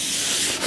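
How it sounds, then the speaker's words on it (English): A brief, close, steady scratchy rasp as sandpaper is rubbed by hand across a mid-century modern wooden table. "But the thing is, it's all hand sanding."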